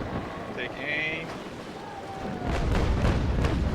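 Cannon shots from a sailing ship in the naval game Naval Action come as a few dull booms over constant wind and wave noise, which grows louder toward the end.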